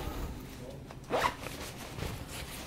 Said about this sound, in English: we've got a center front YKK zipper